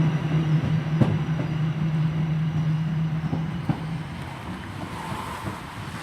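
A Class 323 electric multiple unit pulls out of Barnt Green station, a steady low motor whine with wheel clatter over rail joints at about one and four seconds, close by and gradually easing as it moves off.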